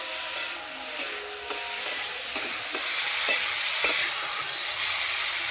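Cauliflower florets fry in a pan of hot oil with turmeric, a steady sizzle broken by faint clicks of stirring, close and continuous with no voices.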